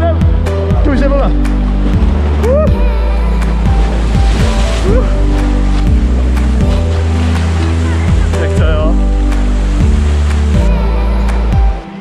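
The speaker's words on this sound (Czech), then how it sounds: "Tu už je vlna." Ocean waves breaking on a New Zealand North Island beach near Hot Water Beach, a continuous rolling wash with surges, heard under steady wind and a low engine-like drone, with people talking.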